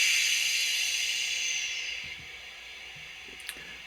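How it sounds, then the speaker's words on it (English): Brake release hiss from a Bachmann 009 narrow-gauge Double Fairlie model locomotive's DCC sound decoder: a steady airy hiss that fades after about two seconds, with faint clicks near the end. "Number 2 is the brake sounds."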